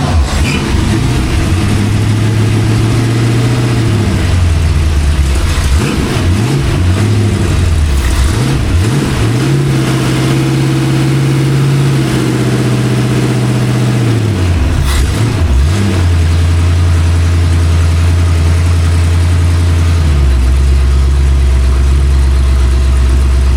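Rebuilt Ford 289 V8 running on a homemade engine stand with its choke still settling: a very loud, close, rough idle repeatedly revved up and eased back, with pitch rising and falling throughout.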